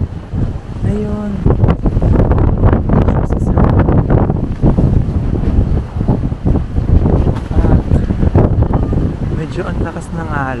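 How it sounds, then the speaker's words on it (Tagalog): Strong typhoon wind and crashing waves along the Hong Kong waterfront during a Signal No. 8 storm, a loud continuous roar of gusts buffeting the microphone with surging surf beneath, while people talk excitedly throughout. "Medyo ang lakas ng alon. Hindi medyo, ang lakas talaga. Tapos ang lakas ng hangin."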